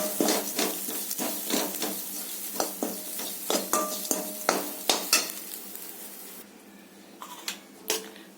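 Grated coconut being sautéed in a pan, a spatula scraping and tapping the metal in an uneven run of close, distinct strokes over a faint frying hiss, thinning out toward the end.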